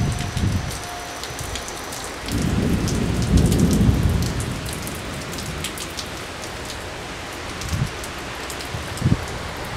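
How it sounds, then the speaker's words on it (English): Heavy rain falls steadily on surfaces during a storm while low, rumbling thunder rolls in the background, swelling for a few seconds and then fading, with a sharp crack near the end. "Yeah, starting to rain."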